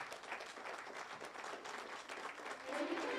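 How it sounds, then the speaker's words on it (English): Audience applause at an award ceremony, a dense, sustained crowd clapping that swells slightly toward the end, with a voice briefly audible over it. "And let the claps keep coming."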